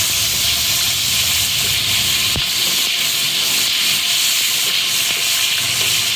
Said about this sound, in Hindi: ये हम इसमें डालेंगे घी।